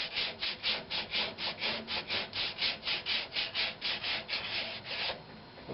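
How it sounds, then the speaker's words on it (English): Sandpaper rubs back and forth on a green-wood natural-edged oak bowl in a steady rhythm, about twenty even strokes, close and moderately quiet, then stops. "sanding it pretty good"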